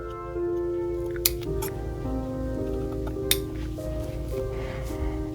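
Scissors snip through the yarn end of a small crocheted ice cream cone, giving two sharp, brief clicks over a steady background hum with no talking.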